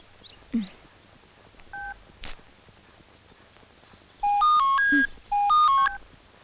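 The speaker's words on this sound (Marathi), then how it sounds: "अगं किशोरी, मी तुलाच फोन ट्राय करत होते." Telephone keypad dialing tones: a few isolated beeps, then two quick, loud runs of multi-tone key presses, clear and close with no talk.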